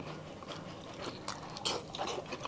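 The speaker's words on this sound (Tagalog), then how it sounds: "Unang kagat tayo." Crunchy bites and chewing of assorted grilled Filipino street food at a family mukbang, close and fairly soft with short crisp bursts.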